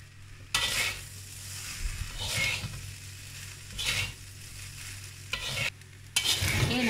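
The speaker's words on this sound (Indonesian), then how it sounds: "Saya goreng sekali ya." Fried rice with salt, lettuce and spring onion is stir-fried in a pan with little oil, a steady sizzle broken by several loud, rhythmic bursts of scraping and tossing, close and without talk.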